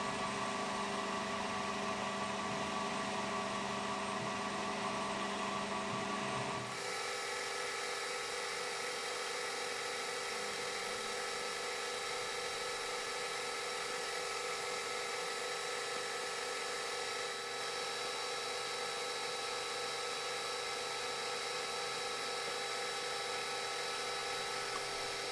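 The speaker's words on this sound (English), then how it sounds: "So I've got to chamfer this edge first." Lathe cutting a chamfer on the edge of a mill spindle part during a spindle repair, a steady machining whine with stacked tones that shifts after several seconds and then runs on evenly without talk.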